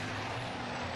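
Racing trucks in the British Truck Racing Championship final at Brands Hatch roar past in a dense, steady engine drone with a faint high whine, loud and continuous throughout.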